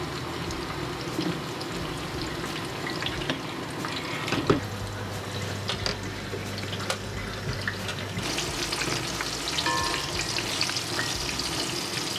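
Aubergine fries in hot oil for a sambal, a continuous dense crackling sizzle with scattered pops and small splashes, steady and close throughout, with no talk.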